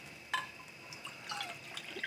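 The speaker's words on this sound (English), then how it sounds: "And so then we add 2 cups of water, because we did 1 cup of quinoa" Water being poured into a pot of quinoa for vegetable soup, a thin trickling and dripping splash with a few brighter drops, soft and close with no talking.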